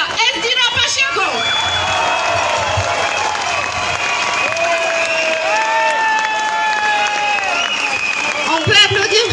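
A rally crowd on the town hall square in Bayonne applauds loudly and steadily, with cheers and whoops rising through the sustained clapping and voices mixed in.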